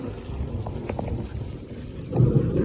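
Heavy rain pours down in the desert mountains, a dense, steady wash of noise with low rumbling beneath, swelling louder toward the end.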